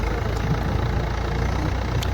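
A tractor engine runs steadily at low revs, a continuous close rumble with no talk over it.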